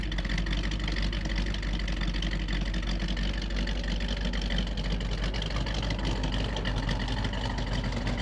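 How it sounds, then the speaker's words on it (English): A Chevrolet C2 Corvette with a 327, 365-horsepower engine and solid lifter cam idles in the snow, a steady deep rumbling lope with a continuous mechanical chatter, close and unbroken throughout with no talking. "You can hear the solid lifter cam, 327, 365 horse."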